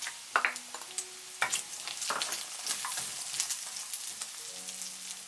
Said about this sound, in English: Add the mushrooms. Stir from time to time for 3 minutes.